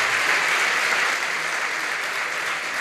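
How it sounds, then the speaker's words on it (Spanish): An audience at an olive growers' meeting claps for the speaker Martín Barreiro, a loud, even, sustained round of many hands with no voices over it. "Reitero un aplauso más grande para Martín."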